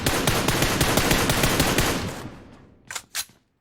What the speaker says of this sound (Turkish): Boş boş ateş ediyorlar.